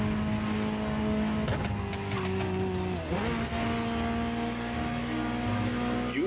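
A Ferrari 250 Gran Turismo Omologato in the racing game The Crew Motorfest revs and accelerates hard, engine pitch climbing and dropping through gear shifts with bursts of tire squeal, loud and close throughout.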